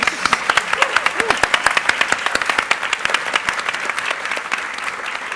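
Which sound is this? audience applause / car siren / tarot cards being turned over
audience applause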